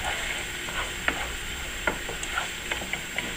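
Green pepper and celery frying in olive oil, with a steady sizzle under repeated clicks and scrapes of a utensil stirring the pan, close up and with no voices.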